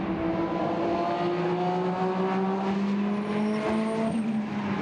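A Porsche GT race car in a Blancpain GT Sports Club race in Hungary holds a loud, continuous engine howl, its pitch climbing gradually as it drives up the track.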